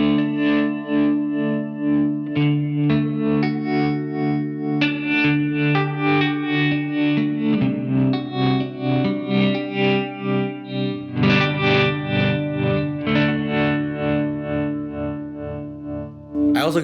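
Electric guitar played through a Beetronics Zzombee Filtremulator pedal with tap-tempo modulation, producing sustained chords that pulse and swirl with a filtered, distorted tremolo, steady and loud throughout.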